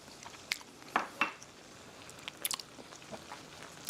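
Bites of creamy buffalo chicken mac and cheese, with a few sharp clinks of cutlery against a dish and soft chewing and crunching in between, close and fairly quiet.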